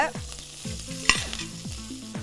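Mustard seeds and curry leaves spluttering in hot oil while making spicy fried chicken, with sharp crackling pops and a steady sizzle, close and fairly quiet, no voices.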